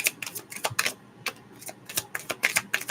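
A deck of tarot cards is shuffled in a series of quick, crisp riffling and flicking bursts, close and fairly quiet, with no voices.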